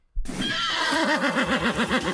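A horse whinnies loudly and close, a sudden shrill neigh that wavers up and down in a long quavering trill, heard alone as a sound effect in a radio advertisement for horse boarding stables.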